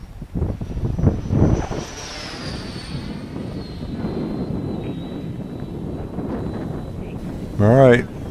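An electric ducted fan RC F-16 jet with a JP Hobbies fan flies overhead, its steady whine sweeping and fading into the distance with Doppler shifts, while someone talks over it early on.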